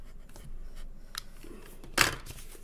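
Cutting knife or scissors slicing through a cardboard toilet paper roll, heard as a few faint, close scraping cuts and one sharper rasping snip near the end.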